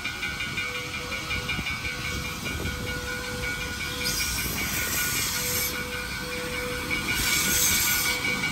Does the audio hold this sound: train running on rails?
yes